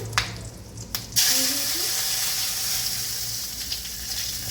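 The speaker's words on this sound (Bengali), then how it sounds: "তো এখন দিয়ে দিচ্ছি প্রথমে একটু জিরে, তারপরে এখানে আছে এলাচ আর দারচিনি দিয়ে দিলাম" Cumin seeds, then cardamom and cinnamon, hit hot cooking oil in a pan with a sudden sizzle that keeps up as a steady, fairly loud frying hiss after a few clicks.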